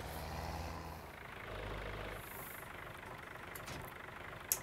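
A vehicle engine idles at a low steady rumble in Farming Simulator 19, then dies away as it is switched off, followed by faint clicks and a sharp knock at the end.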